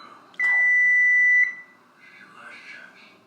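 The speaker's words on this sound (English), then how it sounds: "but we don't really know why it's beeping." A newly unboxed, plugged-in kitchen appliance gives a single sustained electronic beep lasting about a second, fairly loud and close, followed by quiet room sound with faint talking.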